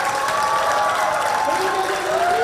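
Crowd applause for the 10-meter air rifle mixed team bronze medal winners at a shooting world cup in Bhopal, India, steady clapping with a tonal voice or music over it throughout.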